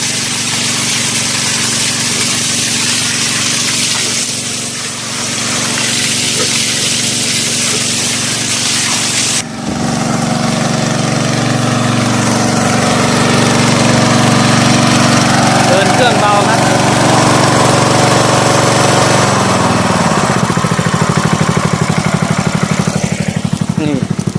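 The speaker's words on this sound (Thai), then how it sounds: "เอาเครื่องสูบน้ำมาสูบ" A gasoline water pump engine runs loudly and continuously nearby, a steady droning rumble that briefly cuts and restarts midway, with water gushing from its one-inch outlet pipe while washing out a pig pen.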